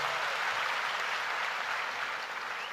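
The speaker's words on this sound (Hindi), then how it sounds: "एक बार जोरदार तालियां फिर से अतुल शर्मा के लिए" Loud, sustained applause from an anniversary celebration crowd cheering for seniors and Atul Sharma, a dense, even wash of many hands clapping with no talk.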